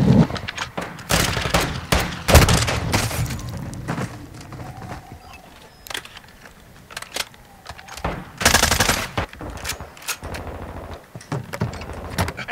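Bursts of automatic gunfire in a Call of Duty Modern Warfare multiplayer match against bots, loud and close, coming in several separate volleys with quieter gaps between them.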